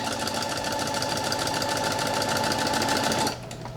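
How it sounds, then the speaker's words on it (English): A sewing machine runs steadily and loudly, stitching fabric with a fast, even mechanical whir, then drops to a quieter hum near the end as it stops. "We're gonna turn our fabric with our needle down, and then we're gonna keep sewing"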